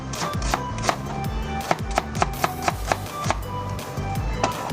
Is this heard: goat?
no